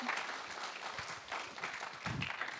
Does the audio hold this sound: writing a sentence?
no